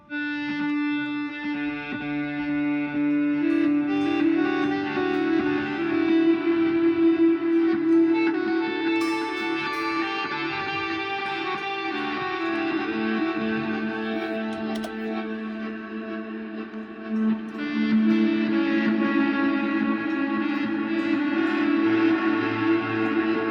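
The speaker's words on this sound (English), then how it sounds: "the reverse delay with the kill dry engaged" Guitar notes swell in backward through a Plethora X1 reverse delay with the dry signal killed, washing up in smeared waves with no clean pick attack, thick with echo and grit throughout.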